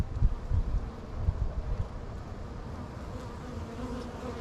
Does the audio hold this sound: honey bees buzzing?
yes